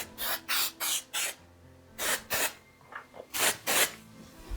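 Bursts of aerosol wax spray misted onto hair while styling a criss-cross chignon, arriving in short hissing blasts: three quick sprays, a pair, a few softer puffs, then two more strong ones, close and alone.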